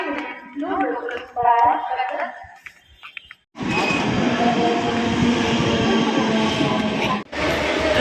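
A person talks briefly, then a train rumbles loud and steady with rattling carriage noise, briefly dipping before continuing, as it arrives toward Bhivpuri Road station.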